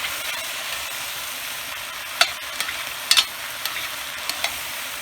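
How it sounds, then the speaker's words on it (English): Chicken sautéing in fat for cacciatore hisses in a steady sizzle, broken by a few sharp scrapes and clacks of a utensil stirring the pan at irregular moments. "the sauteing"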